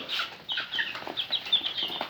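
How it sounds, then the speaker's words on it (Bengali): Chickens of the tiger breed cluck and chatter in a small group close by, a steady stream of short calls with no talking over them. "এই যে মুরগির যত্ন নেওয়া হচ্ছে"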